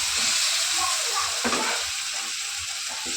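Tomato mixture with salt and a little sugar sizzles and fries in a pan, a steady hissing crackle with occasional soft stirring scrapes, close and continuous.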